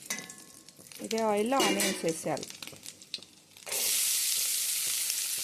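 A voice speaks briefly, then onions go into hot oil left over from frying eggs for an egg curry, and a bright, loud sizzle rises and holds steady near the pan.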